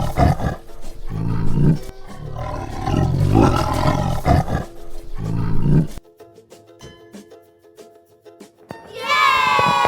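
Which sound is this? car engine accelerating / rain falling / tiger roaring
tiger roaring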